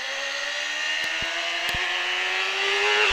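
A motorcycle engine winds up steadily in pitch as it accelerates out of a corner on a track in Pau, loud and close, with a couple of brief clicks along the way.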